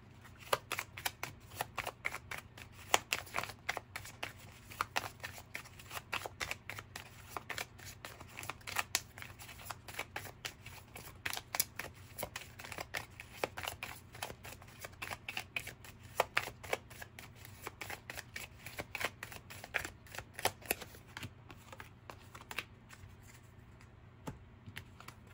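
Tarot cards are shuffled close by in repeated crisp riffling bursts and flicks, sharp snapping clicks recurring steadily throughout over a quiet room, with no talking.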